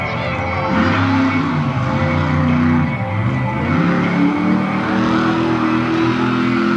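A loud, heavy monster truck engine roars and revs steadily at a freestyle event in Lima, Ohio, its pitch dipping briefly and climbing again, with crowd noise faintly in the background.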